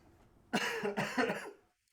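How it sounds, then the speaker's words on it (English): A man with congestion lets out a short, close cough in two quick bursts, the second rougher and throatier, then quiet. "Just a little bit of a cough, throat thing, man."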